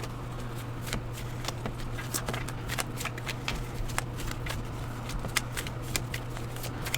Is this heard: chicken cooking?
no